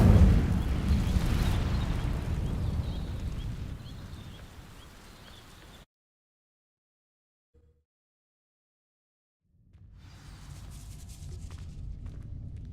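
Incendio fire spell igniting dry vines in Hogwarts Legacy, a loud roaring burst of flame that fades over several seconds, then silence, then a lower crackling rumble resumes.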